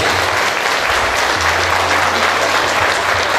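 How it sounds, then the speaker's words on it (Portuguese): Dense, steady applause from a large crowd at an anniversary gathering, loud and continuous throughout with no voices breaking through. "Um aplauso de todos"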